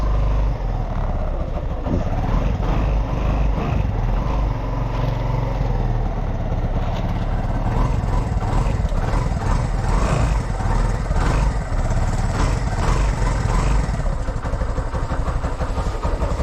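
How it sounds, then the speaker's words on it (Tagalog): An engine warming up idles loudly and steadily up close in heavy rain, a continuous mechanical rumble with no speech. "Papainit lang po tayo ng makina."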